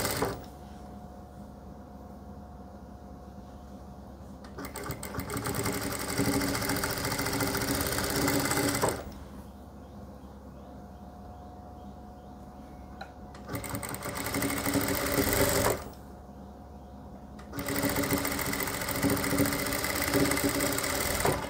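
A sewing machine stitches lace onto a salwar, its motor buzzing in steady bursts of several seconds separated by short pauses, close and fairly loud.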